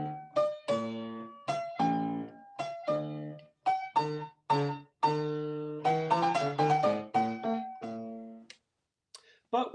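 A solo piano plays the theme of Beethoven's Eroica variations, in sparse, detached chords and single notes with pauses between phrases, close and clear with no other sound.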